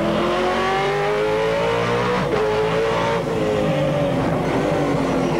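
A 1999 V8 Supercar engine roars loud and close from onboard, revving hard and shifting through corners on a circuit's north end, with a sustained throaty drone and pitch swings.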